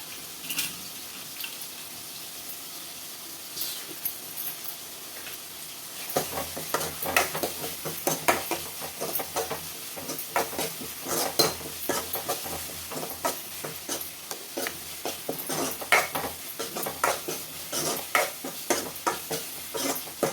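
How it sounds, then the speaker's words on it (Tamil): Onions with curry leaves sautéing in a pan for Tamil mutton kulambu, a soft background hiss for the first six seconds, then repeated scraping stirs and sizzling crackles close up, with no talking. "வெங்காயம் வதக்கி விட்டுக்கிறேன்."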